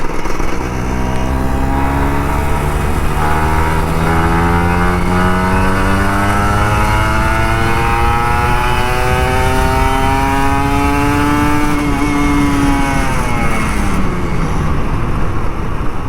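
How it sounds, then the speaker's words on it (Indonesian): A Kawasaki Ninja RR 150 two-stroke motorcycle engine revs steadily on a Jakarta street, its pitch climbing and falling in a loud, continuous drone close to the microphone with no voices. "Asik kan ngegas tipis-tipis, open cap aja sedikit-dikit."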